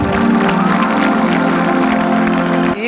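Audience applause at a Telugu church sermon: a dense, steady wash of clapping that fills the whole moment, loud and close, ending abruptly.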